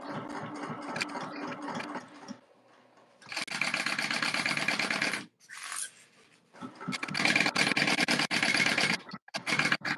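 Sewing machine stitching a tote bag's main panel, running in several sustained bursts of fast, dense mechanical whirring with short pauses between runs, close and fairly loud.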